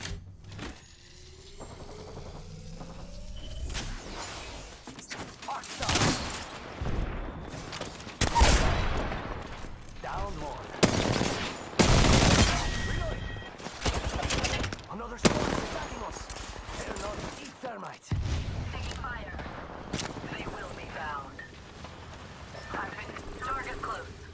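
Gunfire from Apex Legends Season 11 gameplay with Octane, repeated bursts of automatic weapon fire and single shots spread across the scene, loud and close, mixed with game effects and a voice talking.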